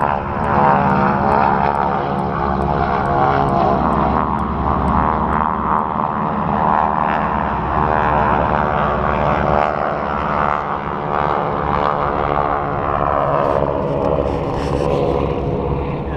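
A C-130 propeller transport flies in at the Sun 'n Fun air show, its loud, steady droning engine roar holding throughout with no talk over it.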